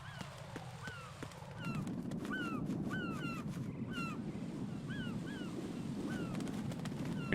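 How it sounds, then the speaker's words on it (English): Crows caw repeatedly in the Metal Gear Solid 2 video game, a steady series of short harsh calls over a continuous rushing wash of water or wind that swells partway through. "Pretty birds."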